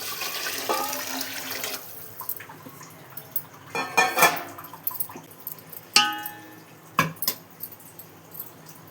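Water splashes and pours into a metal pot of Sona Masuri rice, with intermittent clanks and clatters of utensils against the pot, close by.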